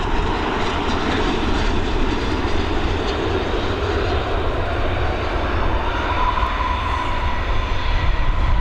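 A large-engined jet landing on runway 28L at Dublin Airport in the evening, a loud continuous broadband roar that holds steady throughout.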